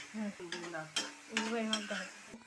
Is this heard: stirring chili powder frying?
yes